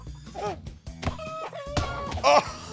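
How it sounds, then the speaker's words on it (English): Chickens in a video game cluck and squawk in short, sharp bursts over game effects, with a player talking intermittently in between. "Oh, we gotta knock the chicken out."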